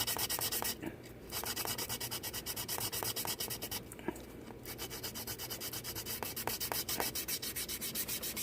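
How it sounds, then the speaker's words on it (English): Rough sandpaper is drawn back and forth over the edge of a fiberglass cowl hood on a Mini, a continuous close, loud scratchy sanding with a couple of brief pauses. "just take your sandpaper. You take your roughest one that you're going to use. You come along and you clean it up."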